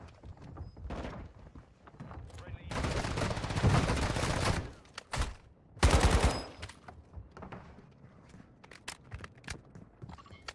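Shotgun blasts in the mobile shooter Warzone Mobile, coming as a couple of heavy, loud bursts between quieter stretches of game noise and scattered thuds.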